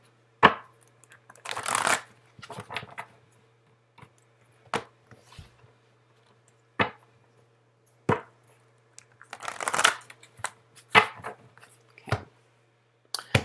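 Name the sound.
shuffling tarot cards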